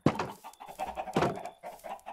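Chickens in the game Minecraft cluck in short, close, moderately loud bursts, a few distinct clucks spaced across a brief moment with no talking over them.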